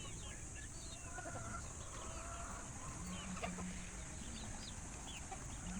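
Several cockerels on a gamefowl farm cluck softly at a distance over a constant background hum, with scattered short calls throughout.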